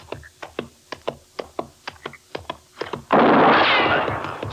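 Gunshots in a Western radio drama: about a dozen sharp, evenly spaced reports ring out alone, then give way to a loud, sustained burst of dense noise.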